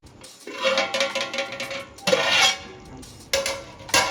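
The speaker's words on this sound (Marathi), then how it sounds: "आपण कढईवर झाकण ठेवूया इथे आपलं चिकन छान गाळ होईपर्यंत शिजून घ्यायचं आहे" A metal lid is set down on a kadhai of chicken masala gravy, giving a few short clattering clinks and scrapes in bursts, fairly close and clear with no talking.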